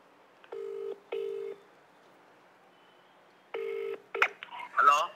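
Telephone keypad tones as a call is placed: three steady dialing beeps spaced apart, followed by brief chirpy electronic tones, clear and close with no voice.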